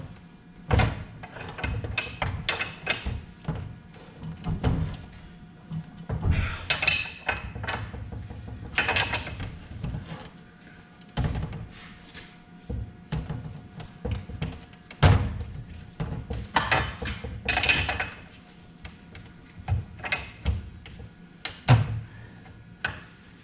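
A wrench works a large nut on a supercharger cooler part of a 2002 Mustang Saleen S281, giving intermittent ratcheting clicks, metallic knocks and dull thumps up close, with pauses between bursts and no talk.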